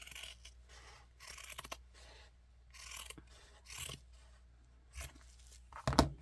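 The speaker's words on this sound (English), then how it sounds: "I can't cut a straight line, but I'm eyeballing it" Scissors cut paper for a junk journal cover in several short, soft rasping snips, close by and quiet, with rustling paper between them and a sharper clatter near the end.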